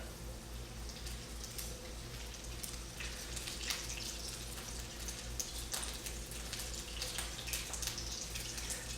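Egg rolls stuffed with smoked brisket frying half-submerged in hot oil, a steady close crackle and bubbling hiss with scattered sharper pops that holds throughout.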